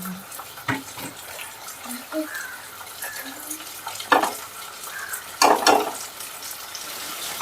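Chicken pieces dropped into a hot pan for fried chicken gravy, sizzling and popping with bursts of loud crackle as they hit the oil and get stirred, alongside scraping and brief voices in the background.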